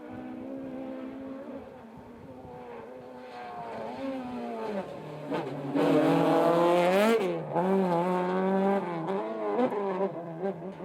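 Historic rally cars, among them a Toyota Corolla, climbing the Malls Gap stage, engines revving and changing gear as they rise, swelling to a loud close pass with squealing pitch shifts before easing off.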